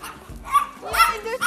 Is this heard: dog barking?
yes